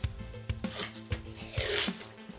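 Several short rasping rips of Gladiator tape being pulled off a roll come in quick uneven bursts close by, ending in a longer tearing pull.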